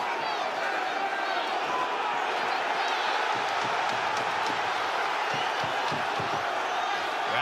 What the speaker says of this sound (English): Kambosos gets the crowd on their feet here in Melbourne, Australia.